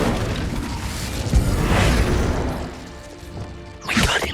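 An Incendio fire spell cast in Hogwarts Legacy: a continuous roaring, crackling whoosh of magical flames, with a sharp burst near the middle and another loud crash-like flare at the end.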